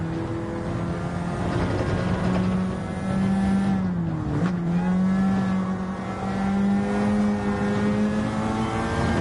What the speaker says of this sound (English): he played with that throttle a bit too much coming off of that corner